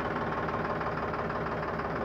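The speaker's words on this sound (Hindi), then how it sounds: "ट्रैक्टर को फर्स्ट गियर में डाला जाएगा" Sonalika 735 DI tractor engine idling, a steady low chugging drone with a faint rhythmic knock, moderately quiet and unbroken, no voices over it.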